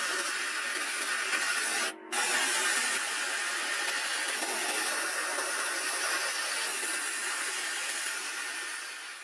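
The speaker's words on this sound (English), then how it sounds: "he uses a sandblaster to clean up this faceplate, the pillars, and the mainspring, removing all the rust" Rusty faceplate, pillars and mainspring from a 1950s desk clock sandblasted with white corundum abrasive, a loud, steady, close hiss of blasting air and grit with a brief break near the start.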